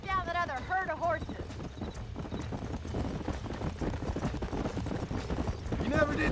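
Horse hooves clip-clopping in the Western video game Red Dead Redemption, a steady rhythmic trot close by, with a horse whinnying briefly at the start and again near the end.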